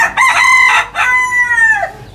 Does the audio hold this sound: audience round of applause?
no